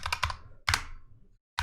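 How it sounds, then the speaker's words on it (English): Computer keyboard typing a terminal command, a quick burst of keystrokes, a second cluster after a short pause, then silence before another brief burst; close and clear with no voices. "let's open another terminal, right? We will do SSH Jake at 9876543."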